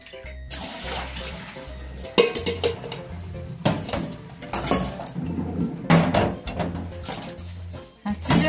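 Soybeans tipped into a metal pressure cooker for homemade miso, producing clattering pot and utensil knocks, rattling and splashing water in uneven bursts, close and fairly quiet.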